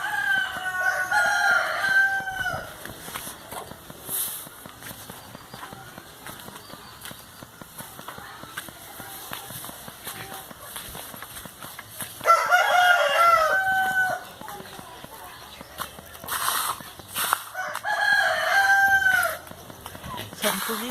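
Backyard chickens, several bursts of loud, near rooster crowing mixed with clucking, separated by quieter stretches of faint farmyard ambience, no talking.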